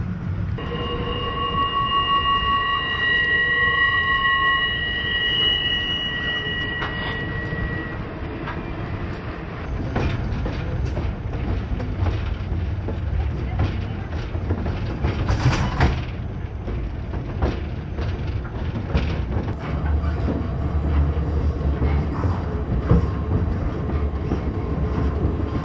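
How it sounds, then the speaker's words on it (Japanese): A train travelling from Talkeetna to Fairbanks, Alaska, rolls steadily along the rails with a constant low rumble and clatter, plus a brief high tonal squeal early on and no speech. "昼前にタルキートナーを出た列車は9時間かけて"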